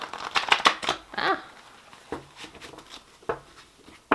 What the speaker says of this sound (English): These ones are difficult to shuffle